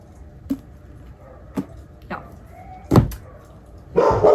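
Dogs barking indoors: a few sharp, separate barks spaced a second or so apart, then a louder, busier burst of yapping at the end, close by with no clear speech.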